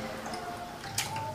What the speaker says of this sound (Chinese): 把鱼仔进行第二遍清洗